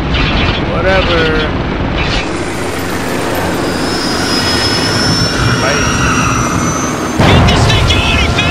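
A transport helicopter in the Spec Ops: The Line video game roars loud and close with a steady turbine whine and rotor rumble, under shouted voices and combat noise.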